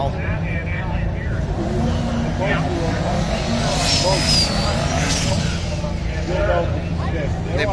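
Cars doing small burnouts at a street car and stick class drag racing event, a loud continuous engine roar and tire noise throughout with crowd voices and chatter mixed in.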